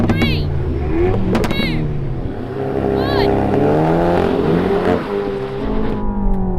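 A VW Golf GTI Clubsport, Honda Civic Type R and Renault Megane Trophy, all front-wheel-drive, launch together in a wet drag race, with loud revving engines, rising gear-change whines and wheelspin close by, and a voice talking over them.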